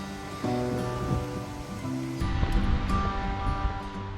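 Waterfall on a summer hiking trail in Iceland, a steady rushing wash of falling water that grows louder and rougher midway, continuous and close, with no talking.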